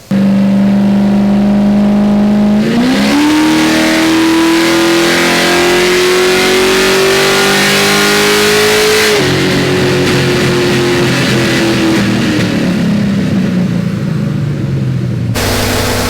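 Nitrous-fed Ford Mustang V8 screams through a long rising rev on a chassis dyno, pitch climbing steadily to a peak, then the throttle closes and the engine winds down over a loud, steady roar with no talk.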